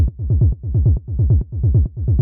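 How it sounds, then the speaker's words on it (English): A synthesized techno tom rumble built from a sine oscillator with a short pitch envelope repeats as a fast run of low, downward-sweeping thuds, pulsing in rhythmic groups with brief gaps, loud and alone. "you get a nice tom rumble which sounds like this"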